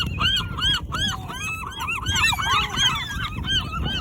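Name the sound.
seagulls calling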